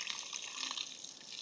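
Water poured steadily to soak a potted plant down to the roots, a continuous close splashing trickle with no break and no voices.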